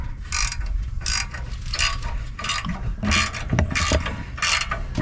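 Ratchet wrench turning a short bolt while swapping a brake caliper, a loud run of quick metallic clicks in steady bursts, close up with no talking.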